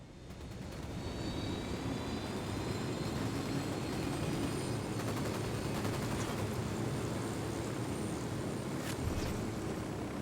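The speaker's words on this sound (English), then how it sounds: "Chopper inbound." A helicopter in Ghost Recon Wildlands gives a steady, loud rotor and engine roar that holds at a constant level, with a faint sharp crack near the end.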